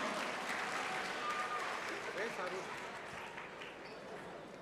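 An audience applauds the winning bidder at a charity book auction during a book launch, moderate clapping that holds steady, then fades a little while a voice speaks over it.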